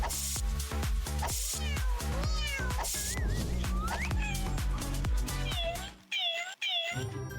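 A pet cat meows repeatedly in an animated children's cartoon, its high gliding calls rising over steady background music with a brief pause near the end.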